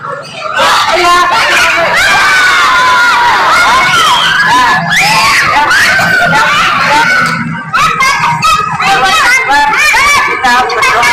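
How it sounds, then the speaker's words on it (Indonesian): A group of children at a school physical education lesson shout and scream together loudly, a dense, sustained crowd of young voices with cheering and laughter, briefly dipping before swelling again. "Teriak."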